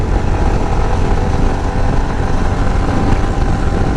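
A Royal Enfield Himalayan BS6 motorcycle ridden fast in fourth gear, its engine droning steadily and loudly with strong wind rush throughout, no clear rise in pitch, and no talk.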